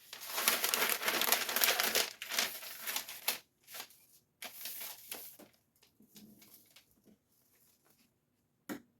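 Sheets of sublimation transfer paper crinkle and rustle in bursts as they are handled beside a heat press for printing shirts, close and soft with pauses between movements.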